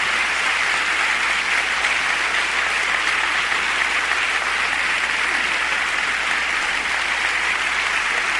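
Sustained applause from a church congregation, a thick wash of many hands clapping at even intensity from start to finish, with no speech heard over it.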